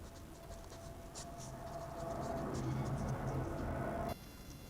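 Someone writes on a board while working through a Class 10 maths proof, giving a soft, continuous scratching and tapping close by that stops abruptly near the end, with a steady background hum beneath it.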